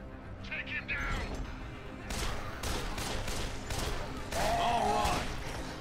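Gunshots go off in the video game Dead Island, a series of fairly quiet, clipped bangs spread across a few seconds amid game noise, with a voice talking over them.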